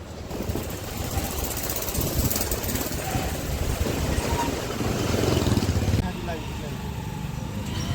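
A motorcycle engine drones steadily at close range, its rough rumble mixed with rushing wind noise, holding a constant level throughout.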